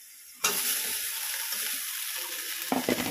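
Leftover cooked rice fries in a pan with potato and chili, breaking into a loud, steady sizzle that continues throughout, with a few clattering stirring sounds near the end.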